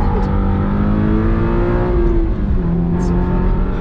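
A 2022 Subaru BRZ drives on a race track, its engine a loud, close, steady drone with rising and falling pitch throughout, heard alone.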